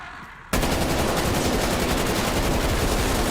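Continuous automatic gunfire in Call of Duty Black Ops Cold War zombies mode, a dense, loud, steady stream of rapid shots that bursts in after a brief quieter moment and carries on without pause.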